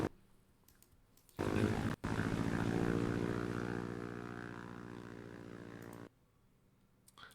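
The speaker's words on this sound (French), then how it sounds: "quand on entend le son du drone" A drone sound effect roars in abruptly after a quiet stretch, a dense buzzing propeller whine that holds loud and steady for several seconds, slowly fades a little, then cuts off sharply.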